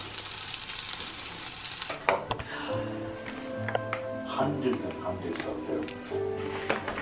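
Food sizzling in a pan during home cooking, a close continuous crackle with brief utensil clinks and stirring, while a person talks over it.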